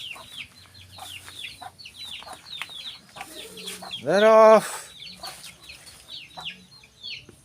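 Chickens cluck softly nearby in short scattered bursts while digging up a garden, with one louder squawking call in the middle and a brief spoken remark.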